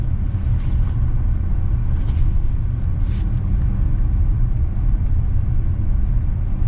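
A 2025 Hyundai Palisade Night Edition cruising and gently accelerating, heard from inside the cabin as a steady low road rumble with engine drone and no talk.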